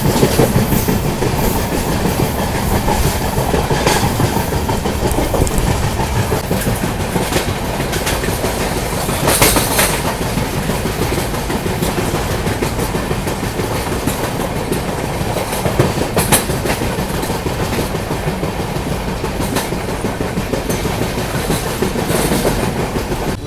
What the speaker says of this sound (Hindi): तो अभी अपनी ट्रेन को लूप पर लगाया जा रहा है